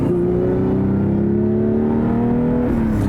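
A Porsche 911 engine with a six-speed manual gearbox holds a loud, close, droning rev that climbs slightly and stays steady throughout, with no voices over it.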